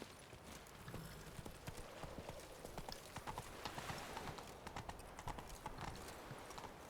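Horse hooves clip-clop steadily at a trot in Witcher 3, a faint, even rhythm of hoofbeats over a soft game ambience.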